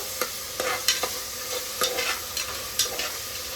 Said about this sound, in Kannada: ನಾನಿಲ್ಲಿ ಒಂದು ಟೊಮೆಟೊ ಹಾಕಿ ರೋಸ್ಟ್ ಮಾಡ್ಕೊತಾ ಉಂಟು.